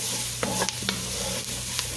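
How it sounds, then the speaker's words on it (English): Black-eyed peas stirred in a cooking pot: a few quiet scraping and clinking strokes of a spoon over a soft, steady simmering hiss, heard close and without any talk. "I'm going to go ahead and stir this around."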